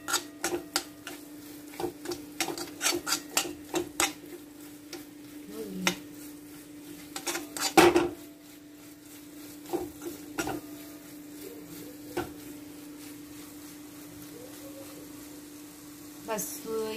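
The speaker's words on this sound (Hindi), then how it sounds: "अब हम इसे अच्छे से मिक्स कर लेंगे" Semolina being mixed with a spoon in a pan, a run of quick scraping and tapping strokes, then sparser clinks and one louder knock against the cookware, over a steady low hum.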